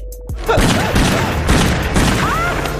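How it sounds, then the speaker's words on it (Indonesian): Gunfire in a Filipino film scene comes as a loud, dense barrage of shots and booms, with a voice crying out over it. "Panjul kehilangan kendali dan menembak Samara hingga meninggal."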